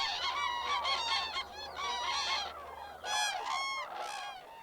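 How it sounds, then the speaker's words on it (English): Loud, bugling calls of common cranes ring out in repeated overlapping bursts during their mating dance, several birds trumpeting together with brief pauses between phrases, in the Spanish dehesa. "this place is alive with the mating dance of the common crane"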